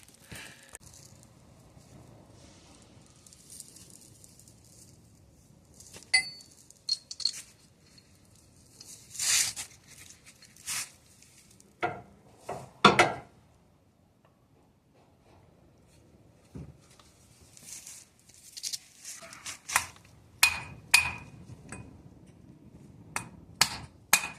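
A CV joint is hammered onto the axle of a 1.2 petrol Fiat 500 in a workshop. Sharp, sparse metallic taps and knocks come in irregular clusters with quiet gaps between them.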